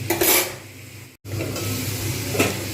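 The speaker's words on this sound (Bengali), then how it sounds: "এবার এইটাকে ভালো করে নাড়িয়ে নিয়ে ঢাকা দিয়ে রেখে দেবো" Mixed vegetables for fried rice are stirred in a pan, with a spoon scraping and rustling against the metal over a steady low sizzle. The sound briefly cuts out, then the stirring resumes.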